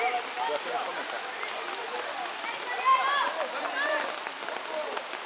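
Rain falls steadily during a football match, a soft constant patter and hiss beneath a commentator's continuous talk.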